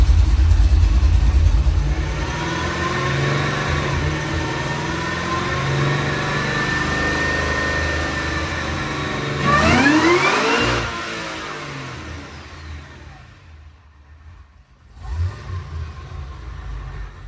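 A 750hp Cadillac engine runs on a dyno, holding a loud sustained roar that climbs into a sweeping high rev, then cuts off abruptly and settles into a lower rumble with a short final blip.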